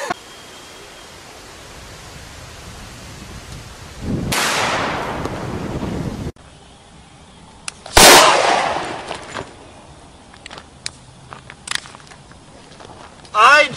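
A single gunshot in a home setting, one very loud sharp crack that cuts through a burst of noise, followed by scattered clatter and agitated voices.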